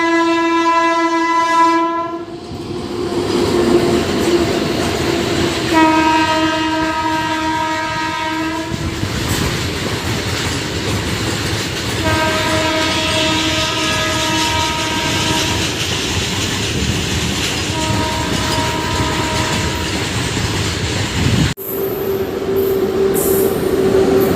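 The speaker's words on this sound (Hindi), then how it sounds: "और एक कोई ट्रेन आ रही है गाइस, गुड्स ट्रेन" A goods train passing on a line between Ballabhgarh and New Delhi, heard as a loud continuous rumble and clatter of wagons close by, with repeated long horn blasts sounding over it and a sharp change near the end.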